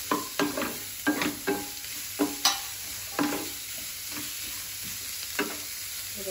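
Carrots and tomatoes sauté in a pan for red flattened rice upma, a soft sizzle under a run of spatula stirs and taps that come in clustered strokes, then thin out.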